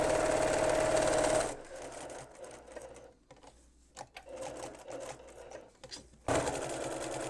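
A sewing machine stitches through cotton batting, running loud and steady for a burst, stopping during a quieter pause with small handling noises, then starting up again near the end.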